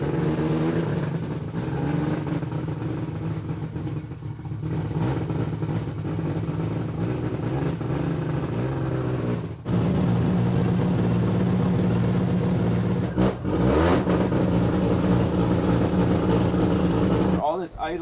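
Race car with a titanium exhaust and sequential gearbox, built for Pikes Peak, pulling away on its own power, with a steady low engine drone and brief throttle changes near the end.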